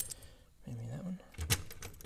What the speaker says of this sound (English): And let me grab my keys real quick.